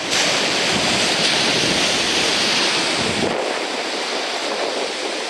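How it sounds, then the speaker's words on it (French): Waves crash against rocks on the Brittany coast, making a loud, continuous roar of surf mixed with wind buffeting the microphone. The crash fades slightly partway through. "les vagues qui se fracassent contre les rochers"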